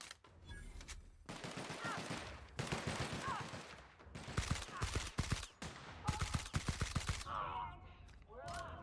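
Rapid gunfire crackles in The Outer Worlds video game, repeated close bursts of shots in quick runs across several seconds, loud and sharp, with brief pauses between volleys.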